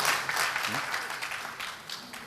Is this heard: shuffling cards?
no